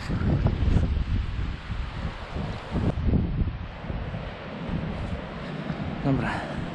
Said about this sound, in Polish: dzisiaj jest świetny wiatr